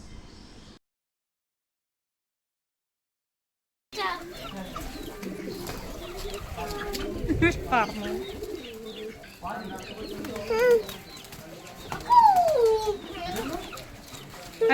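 Pigeons coo and flutter close by as a child plays among them in the evening, a steady run of soft birdsound with voices and handling noise throughout after a brief quiet opening.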